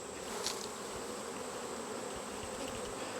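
Honey bees hum in a dense, continuous buzz around capped honey frames being pulled from a hive in August, close and steady with no voices.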